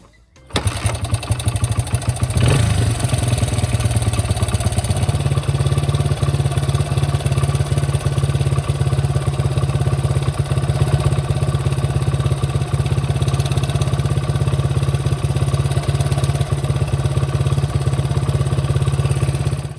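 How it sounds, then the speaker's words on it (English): Classic Honda dirt bike engine starts up with a brief sputter, then runs and settles into a steady, loud idle, close and alone without voices. "It is coming back to idle just as it should."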